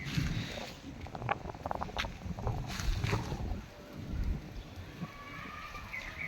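Strong gusty wind ahead of a storm, rumbling and buffeting a nearby microphone in uneven surges, with scattered knocks and rattles of something moving and faint background noise.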